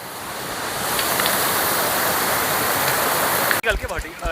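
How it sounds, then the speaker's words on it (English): A small, clear mountain stream flowing beside the trail to Namche Bazaar in Nepal, a steady broadband rush of water heard close and loud, breaking off abruptly near the end into wind buffeting. "we have discovered a very beautiful small stream. You can see it's really clear water"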